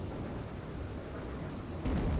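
Steady rain with low thunder rumble during a thunderstorm in the colony-building game Rimworld, a continuous wash that swells louder near the end, with no talking.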